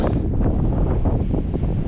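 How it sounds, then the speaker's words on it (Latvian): Strong wind gusting outdoors on a spring day, a loud, steady roar of buffeting rumble across the microphone with no talk. "tāds vējš ārā"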